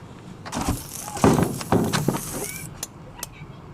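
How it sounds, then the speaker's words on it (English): An injured bird with a broken wing, refusing to go into a box, gives a string of harsh, breathy hisses and then a few sharp clicks. The sounds are close and moderately loud. "Hear him hissing and clicking?"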